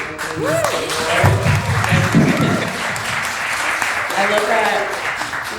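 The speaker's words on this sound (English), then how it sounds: "people are already starting to clap" Audience applause at a film panel on female cinematographers, steady clapping from a seated crowd lasting throughout, with a voice speaking over it near the start.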